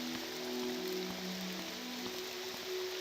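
Steady rain in the game Morrowind, a continuous broadband hiss of falling water with no talk, rising and falling only slightly over the span.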